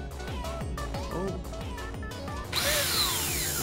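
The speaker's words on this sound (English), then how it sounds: "What's he doing with the drill?" Power drill in the Roblox horror game Guesty whirs in steady pulses over rhythmic game music, then a louder, harsher grinding burst takes over for the final second.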